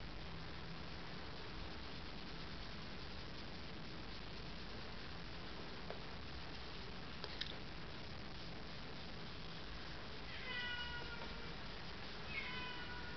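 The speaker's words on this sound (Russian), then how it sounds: "Вы это слышите? Моя кошка." A cat meows faintly a few times in the distance over a steady hiss of background noise.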